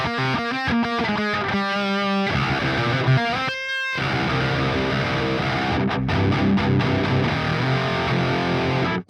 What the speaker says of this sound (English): when you dime the grind, and then run it into a backed off distortion